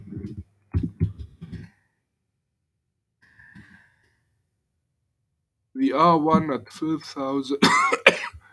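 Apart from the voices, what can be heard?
coughing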